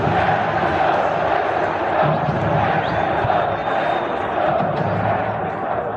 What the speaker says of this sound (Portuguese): vamos ouvir aqui a torcida